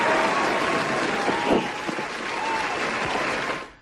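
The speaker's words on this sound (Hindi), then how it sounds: "पूरी रेडियो की तरफ से तालियां।" Applause for a caller on a radio show, a steady bed of clapping that holds for several seconds with a faint tonal hum running beneath, fading out sharply at the end.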